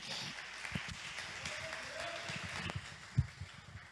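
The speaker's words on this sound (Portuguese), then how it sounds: "As palmas louvam o Senhor, amém?" Congregation clapping during a church service, a soft, fairly distant rustle of many hands with a few sharper claps and a faint voice underneath.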